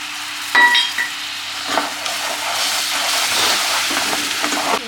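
Loud, steady sizzling and spattering as water is added to a hot pan while making a plum cake, with brief clinks and stirring sounds near the start.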